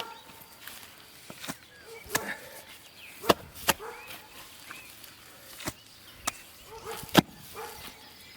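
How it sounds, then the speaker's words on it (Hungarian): Patties of cob mud are thrown and slapped onto a wall under construction, giving a series of loud, sharp smacks spaced a second or so apart over a faint outdoor background. "A megfelelő átcsapást a hangosan csattanó hang jelzi."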